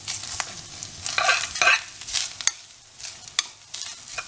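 Cashew nuts fry briefly in a pan for coconut laddu, giving a soft sizzle with irregular stirring scrapes and sharp clicks of a spoon against metal, close up with no talk.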